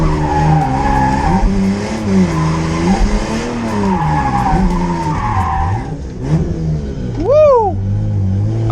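A turbocharged Lexus car revs hard and accelerates, engine pitch rising and falling in loud repeated surges with tire squeal, ending in a sharp climbing rev near the end.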